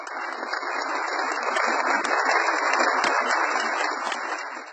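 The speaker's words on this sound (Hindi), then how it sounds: "इनके लिए एक बार फिर जोरदार तालियां।" An audience at an Urdu conference applauds after a poem recital, a continuous, fairly loud wash of clapping that holds steady for several seconds and sounds slightly thin and filtered.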